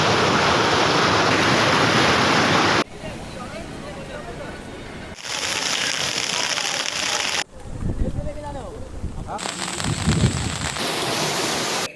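Heavy rain and flood water sweeping through the city of Asansol, a loud, roaring hiss of downpour and rushing water in several segments that cut between differing intensities.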